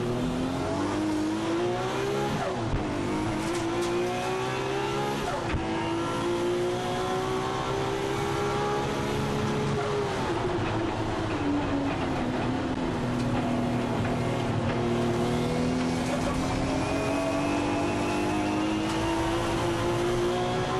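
A Nissan Skyline GT-R BNR32 runs a time attack lap, its engine loud and continuous throughout. The pitch rises and falls as it accelerates and lifts, with a brief dip and recovery and faint tire noise.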